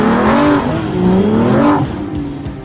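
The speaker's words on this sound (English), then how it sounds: "This is just a quad cam V12 that sounds great, responds instantly to the throttle" Aston Martin V12 Vantage S with a quad-cam V12 revs hard, a loud, close engine note rising and falling through the rev range over a couple of seconds.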